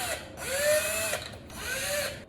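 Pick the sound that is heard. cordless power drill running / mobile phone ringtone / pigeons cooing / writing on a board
cordless power drill running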